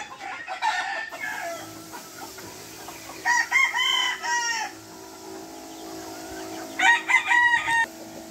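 Chickens and roosters in a backyard poultry farm, where two close, loud rooster crows ring out several seconds apart over softer clucking and background birds. No one speaks.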